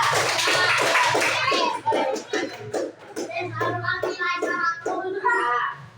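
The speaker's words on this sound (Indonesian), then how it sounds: "boleh tepuk tangan semuanya untuk kelompok 2" A short round of applause from an audience of students after a group presentation in a classroom, brief and fairly close, with children's voices chattering over and after it.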